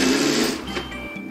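A hotel room curtain being cranked open by hand, giving a steady mechanical whirring and rattling, close and fairly loud, easing off near the end with no talking.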